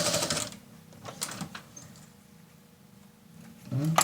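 A domestic sewing machine runs a straight seam through patchwork fabric scraps for a triangular pouch, giving a steady, even mechanical hum that lasts a few seconds between brief handling noises, with no talking.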